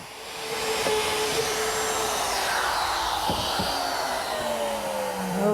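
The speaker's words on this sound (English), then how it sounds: "a collar in my router fits into the jig, and a 1/4-inch bit does the work" A router fitted with a 1/4-inch bit, guided by a collar in a jig, cutting shelf-pin holes in teak: a loud, steady whining motor roar close by, its pitch dipping and rising slightly as the bit plunges and withdraws.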